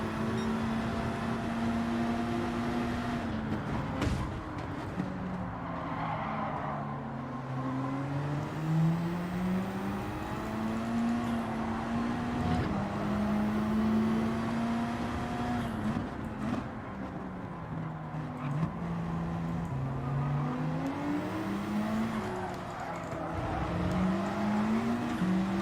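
A car engine in the Gran Turismo 7 racing video game drones steadily throughout, its pitch rising and falling as the car accelerates and shifts, with occasional sharp clicks and no talking.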